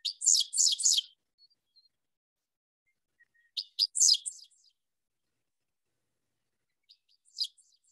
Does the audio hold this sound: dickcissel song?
yes